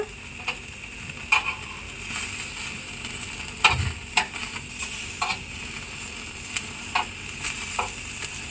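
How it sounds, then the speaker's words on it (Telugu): Fish roasting village style directly over hot coals gives a soft steady crackle and sizzle, broken by scattered faint ticks and pops, close up and with no talk. "ఇప్పుడైతే చేపను రెండో వైపు కూడా తీసుకొని కాల్చుకోండి"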